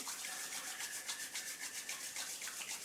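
Palms rubbed together fast and hard to warm the hands during a Taoist qigong exercise, giving a quiet, rhythmic rasping swish that repeats evenly throughout.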